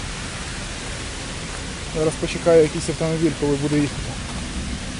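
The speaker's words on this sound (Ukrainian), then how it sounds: "І гроза." Heavy rain from a thunderstorm pours over a flooded city intersection in Bila Tserkva, a constant dense hiss, while someone speaks briefly in the middle.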